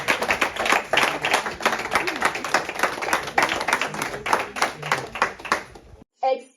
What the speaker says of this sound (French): Ensuite, pour vos applaudissements, on va appeler devant nous Madame Grace Kodi